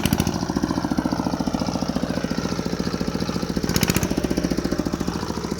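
A walking tractor's single-cylinder engine chugs with a fast, steady, pounding rhythm, loud and close, with no voices.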